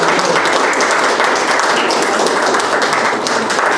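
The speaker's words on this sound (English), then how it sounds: "let's give Nellie one more round of applause" Loud, sustained applause from an audience at an evening guest-speaker event at an aviation museum, dense clapping holding steady and close for several seconds, with no talking over it.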